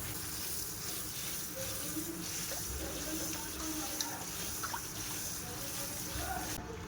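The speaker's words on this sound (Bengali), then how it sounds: "আলু, পালং শাক, বরবটি কেটে নিয়েছি, এবার ধুয়ে নেব।" Steady running water and sloshing as cut potatoes, spinach and yardlong beans are washed, a continuous close wash of water with no break.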